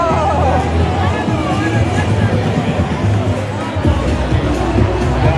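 A large crowd at the Feast of San Gennaro street festival in New York City, a steady dense hubbub of many voices chattering at once, close and continuous throughout.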